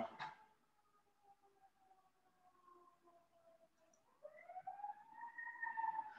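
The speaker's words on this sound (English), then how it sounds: "Actually, I like the sound of sirens" A faint, distant siren wails in slow rising and falling sweeps, growing a little louder toward the end, with no talking.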